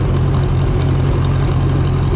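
Close and continuous, a long-dormant old tractor, started after roughly ten years out in light rain, chugs at idle in a deep, regular rhythm with no one talking over it.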